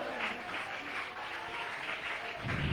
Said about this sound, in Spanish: Suéltale ese aplauso y alábalo.